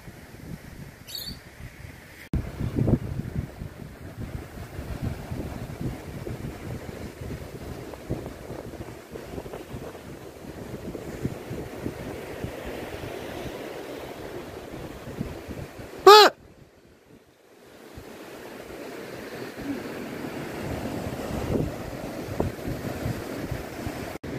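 Ocean waves roll in near high tide at Emu Park, looking out toward the islands, with wind buffeting the microphone. The surf is a steady, broad wash with one sharp knock partway through, then a brief hush before the waves build again.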